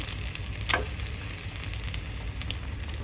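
An omelette fries in a pan with a loud, continuous, even sizzle, and a single brief clatter partway through.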